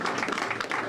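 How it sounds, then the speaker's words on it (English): A community center crowd claps for the adults at a teen center opening, a dense, even patter of applause filling a short moment. "Let's give all the adults a round of applause for caring so much."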